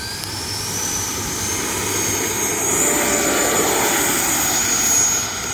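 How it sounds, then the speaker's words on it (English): An E-flite 80mm F-16 RC jet with AS3X+ takes off: a steady high electric ducted-fan whine with a rising pitch line, swelling louder as the model accelerates and lifts away, no voices. "we're gonna do a nice little smooth takeoff here"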